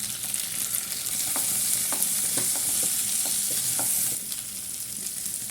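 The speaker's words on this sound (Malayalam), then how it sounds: "നമുക്കിതിലേക്ക് തക്കാളി ഇട്ട് കൊടുക്കാം" Tomatoes go into a pan already sizzling with cumin and fennel seeds; a loud, steady fry hiss carries on while a spoon knocks and scrapes in several stirring strokes, easing slightly near the end.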